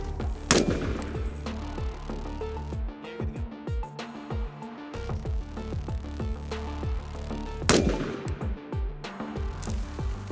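Two loud, sharp rifle shots from a rifle fitted with a Vortex Razor 1-6 HD II scope, fired several seconds apart outdoors, each with a booming echo that trails away.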